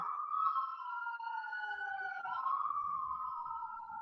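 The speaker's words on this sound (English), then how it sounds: "hold on, we got sirens here" A wailing siren rises and falls steadily in the distance, with faint background rumble and no talking.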